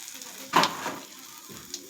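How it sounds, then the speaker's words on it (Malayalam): Mustard seeds crackle in hot oil in a Kerala home kitchen, a quick burst of spitting sizzle followed by a few fainter pops. "അപ്പോൾ നമുക്ക് ആദ്യം കടുക് പൊട്ടിക്കാം. എണ്ണ ചൂടായി വരുന്നുണ്ട്."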